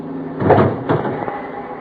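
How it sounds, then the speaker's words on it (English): A door is worked open in a radio drama setting, with two close, muffled thumps and a scraping rattle, loud and without talk. "Pardon me while I get this door open."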